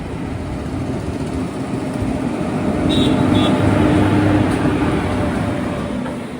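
A lone locomotive rumbles near the outer approach to Kollam railway station in Kerala, heard from a stopped train as a steady low drone that swells and fades, with a brief high squeal in the middle.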